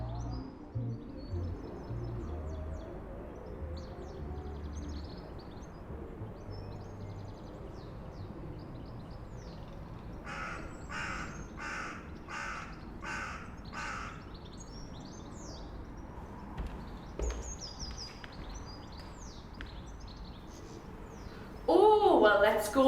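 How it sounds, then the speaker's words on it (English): Birds call and sing outdoors in Byker, Newcastle, with crow-like caws and chirps scattered through a steady background hum, including a run of repeated calls in the middle; a louder burst near the end. "If you listen closely, the birds are singing"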